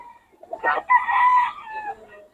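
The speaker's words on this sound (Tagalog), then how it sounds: "Solid quality rin mga manok nito ni Boss Russell" A Gilmore Hatch gamecock gives a single loud, close crow, rising and then holding before trailing off, heard alone.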